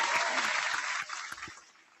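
Applause for a guest on a trucking talk show, clapping that fades over about two seconds, with a few sharp knocks or taps and a trailing quiet end.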